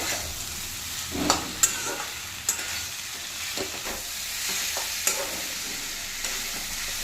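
Tomatoes fry in a pan with a steady, close sizzle, broken by a few sharp stirring scrapes and clicks.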